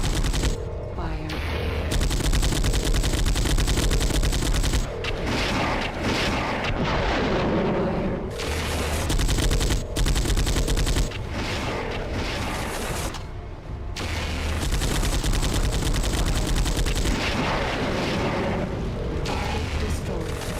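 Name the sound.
tanks and battle mechs firing in MechWarrior 4 video game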